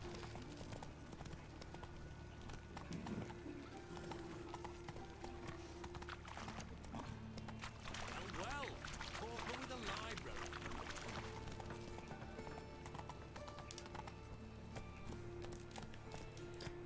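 Roach, Geralt's horse in The Witcher 3, gallops with steady clip-clopping hooves layered under continuous game music and ambience, while someone talks over much of it.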